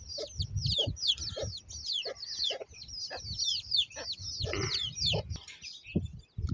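Chickens and a rooster clucking near a small hut coop, a busy run of sharp, repeated clucks and squawks going on without a break, with no talking.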